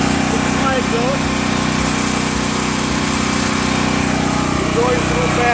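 A Champion dual fuel portable generator runs at a steady drone, placed some distance away with its exhaust piped off, while someone talks over the constant engine hum.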